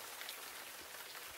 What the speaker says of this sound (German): Es regnet immer noch.